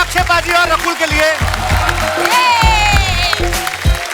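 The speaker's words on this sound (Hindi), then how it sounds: "जोरदार तालियां अक्षय बाजी और रकुल के लिए।" Studio audience applause and cheering for Akshay Kumar and Rakul Preet Singh on a Hindi comedy talk show, loud and continuous, with music playing throughout.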